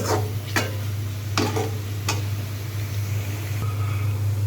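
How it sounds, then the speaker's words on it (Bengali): Spice paste frying and being stirred in a pan, a steady low sizzle broken by several sharp scraping stirs of the spoon, close and fairly quiet. "হালকা একটু ভাজা ভাজা করব।"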